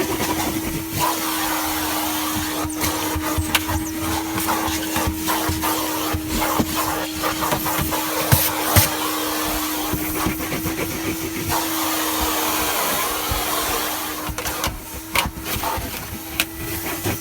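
A vintage 1991 Numatic NV380 vacuum cleaner runs close by in a shed with a steady motor whine and airflow hiss, while bumps and scrapes from the nozzle break in at intervals.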